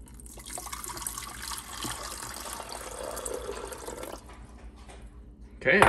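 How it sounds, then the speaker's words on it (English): Water is poured into a coffee brewer in a Maryland coffee shop on Kent Island, a steady running, trickling fill that goes on for several seconds before a louder splash near the end. "Let's go put the water in and brew this up."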